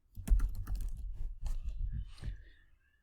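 Rapid typing on a computer keyboard, a close, steady clatter of key presses for a few seconds before stopping.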